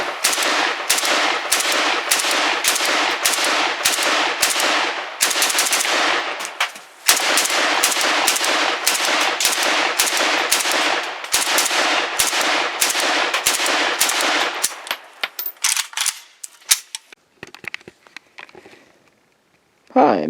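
A Hungarian AK55 rifle fires a long run of loud, close, rapid shots at a steady rhythm, then trails off into scattered single shots near the end, and a voice speaks partway through.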